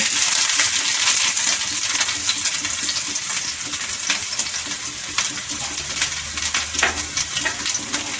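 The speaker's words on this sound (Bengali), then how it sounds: "পেঁয়াজ কুচিটা একটু লাল করে ভাজতে হবে" Chopped onions fry in hot mustard oil for a Malvani fish curry, a close, steady sizzle with crackling pops and occasional scraping stirs throughout.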